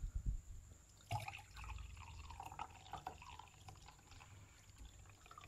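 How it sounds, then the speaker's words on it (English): Water poured into a homemade water level detector, soft trickling and dripping in short irregular bursts, faint and close, with a few handling knocks at the start. "So I'm gonna put water in it."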